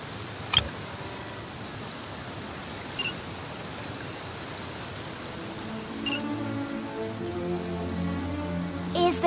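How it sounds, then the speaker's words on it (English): Steady rain falling in the Genshin Impact game world, a continuous hiss of drops with a few brief clicks, and a low harmonic tone rising toward the end. "Oh, I don't like the rain."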